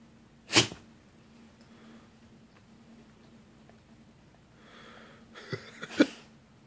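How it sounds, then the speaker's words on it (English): A dog sneezes sharply once near the start, then lets out a couple more quick sneezes and snorts a few seconds later, close and fairly loud in a quiet room. "Got any more sneezes?"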